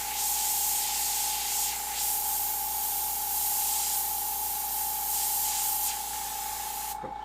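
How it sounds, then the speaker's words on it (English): An airbrush sprays brown paint in a steady, close hiss with a constant tone underneath, running continuously for about seven seconds before cutting off near the end. "I'll just tone it back when I go back with the airbrush, with the brown"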